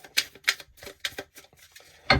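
Tarot cards shuffled by hand, a run of crisp, rapid riffling bursts repeating in quick succession, close and fairly quiet, with no talking.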